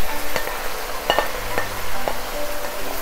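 Shrimp and vegetables stir-fried in a pan, giving a steady sizzle punctuated by repeated sharp clinks and scrapes of a utensil against the pan, close and fairly loud.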